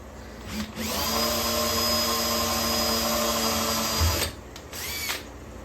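A power drill whines steadily for a few seconds, drilling into a piece of wood on a workbench, with short bursts starting and stopping before and after the main run.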